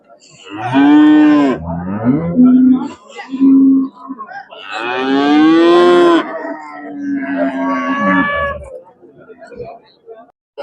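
Cattle lowing at a village cow market in Seenapuram, a series of long, loud moos of varying pitch, several in succession with short gaps, close by.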